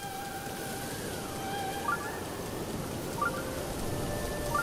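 Rain in the video game The Legend of Zelda: Breath of the Wild, a steady, soft hiss of falling rain that runs throughout, with faint, brief chiming musical tones layered over it.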